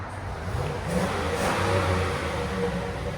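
A 2005 GMC Sierra 1500 pickup's 5.3L V8 with a Flowmaster Super 50 Series exhaust revs hard up close, a deep, throaty roar rising and holding at full throttle for a few seconds.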